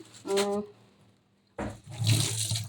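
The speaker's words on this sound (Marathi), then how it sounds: "आता मेथीला पण स्वच्छ धुवून घेते" A tap runs briefly, stops, then gushes again as fresh fenugreek leaves are rinsed in a kitchen sink, a close splashing water stream with a short quiet gap between the two bursts.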